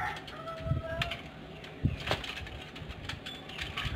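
Pigeons coo softly as a male drives a female, low throaty calls under a quiet background with a few sharp wooden knocks and cracks.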